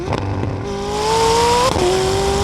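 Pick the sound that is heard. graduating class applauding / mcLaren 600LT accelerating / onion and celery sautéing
mcLaren 600LT accelerating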